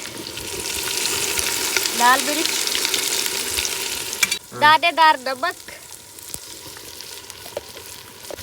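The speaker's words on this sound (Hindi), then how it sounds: "मसाले को अच्छे से भून लिया है" Desi spice masala sizzles and fries in a pan in a village-style kitchen, a steady crackling hiss with stirring, while a person talks over it in bursts.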